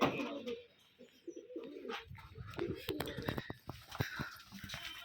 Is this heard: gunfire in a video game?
no